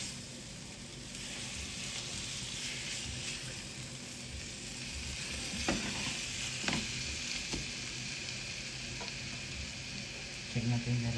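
Chicken seasoned with curry powder sizzling steadily in a pan over medium heat, a continuous close frying hiss with a few small clinks and stirring bumps.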